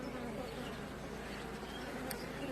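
Honey bees buzz steadily around a small beehive outdoors, a dense continuous drone close by with no talk.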